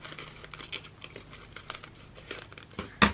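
Paper being trimmed for a handmade DIY envelope gives close, irregular crinkling and cutting rustles, ending in a sharper crunch.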